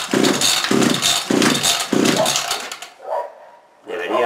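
A gasoline hedge trimmer is pull-started with four quick, loud cord pulls in a regular rhythm, each a rough rasping burst, followed by a short pause and a brief sputter without the engine catching.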